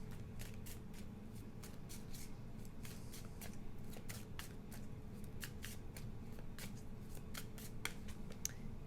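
Tarot cards are shuffled and drawn in a quiet room, with a steady run of crisp snapping riffles and flicks close by, repeating irregularly over a soft low background and no talking.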